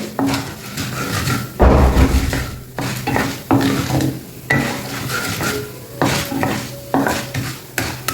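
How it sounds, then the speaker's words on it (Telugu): Spices and a dried red chili fry in a pan for upma, heard as a light sizzle beneath repeated scraping and clinking of a spoon stirring against the pan in short bursts. "ఇవి కొంచెం వేగిన తర్వాత ఒక ఎండుమిరపకాయ వేసుకోండి ఇవి చక్కగా సిమ్లోనే వేయించుకోండి"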